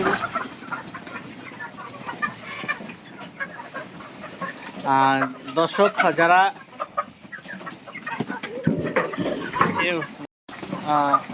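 Three-month-old Fayoumi chickens clucking and cackling close by on a farm, with someone talking over them; one bird lets out a louder run of calls midway.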